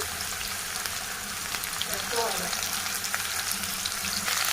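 Okra fries in hot oil in a pan, giving a loud, dense, continuous sizzle that holds steady from start to finish with faint stirring movement underneath.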